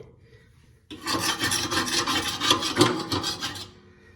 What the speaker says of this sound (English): once I give it a good scrape